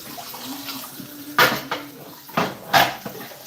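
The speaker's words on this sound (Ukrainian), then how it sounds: "Боже, як я обожнюю мити це такі великі протвіні" Large metal baking trays being washed in a kitchen sink, with a few sharp clanks and knocks of metal against the sink over a low running-water background, heard up close.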